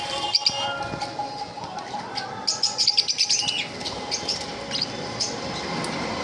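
Conures, including double red factor pineapple conures, and lovebirds chirp in a bird shop, with overlapping shrill tweets and high squeaky calls in quick bursts over a constant background hum.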